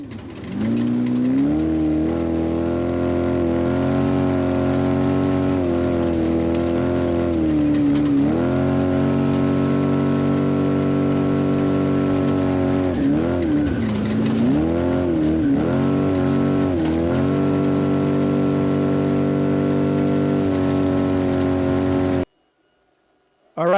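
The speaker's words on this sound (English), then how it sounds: "you hear the motor coming on and off" An off-road race truck engine at a Baja desert rally drones loudly and close, its pitch rising and falling as the motor repeatedly revs up and eases off, then cuts out abruptly near the end.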